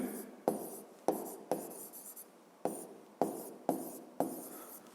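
A pen writes on paper while solving a school physics exercise. It gives a quiet, close series of short scratchy strokes, each starting sharply and fading, repeating in an irregular rhythm with no voices.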